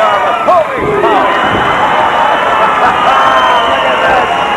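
A 1984 World Wrestling Federation capacity arena crowd roars and cheers steadily throughout, a loud continuous wash of voices with a few sharper shouts near the start.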